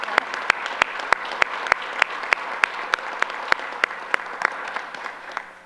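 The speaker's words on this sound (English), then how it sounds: "So if we can give all of those guys a round of applause." An audience at a town council meeting gives a round of applause, a steady patter of claps with a few sharp ones standing out, moderately close and fading at the end.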